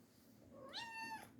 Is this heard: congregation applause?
no